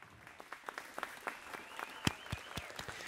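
Scattered claps from a few patrons applauding a band in the video game Snoot Game, sparse and fairly faint, with individual sharp hand claps picking up slightly in number.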